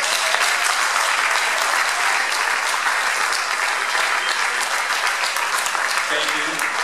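Sustained, loud applause from an audience at a city commission candidates debate in a playhouse, dense steady clapping throughout without pause.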